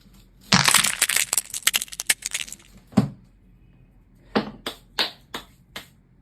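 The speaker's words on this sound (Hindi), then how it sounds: "लगता है टेबल टूट गई" A wooden table cracks and crunches as a thrown cylinder lands on it, giving a dense burst of splintering noise followed by several separate sharp cracks and knocks close by, with no talking.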